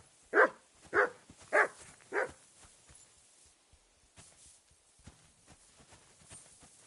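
A dog in the video game Kingdom Come Deliverance 2 gives four evenly spaced barks, fairly close, then faint footsteps and soft thuds follow in a quiet scene.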